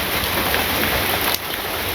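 Steady rain falls over a village in a dense, even hiss with a faint patter of drops, continuous throughout and with no voices.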